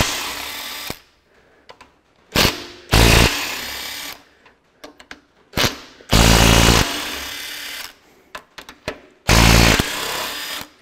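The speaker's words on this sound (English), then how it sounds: "So I'll get me a little nut gun going" A Makita DTW253 3/8-inch drive cordless impact wrench works on the hydraulic lift cover of a Ferguson TEA20 tractor, firing about five loud, rattling bursts of varying length with near-silent pauses between them.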